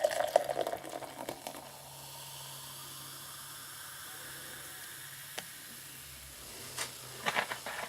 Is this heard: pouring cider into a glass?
yes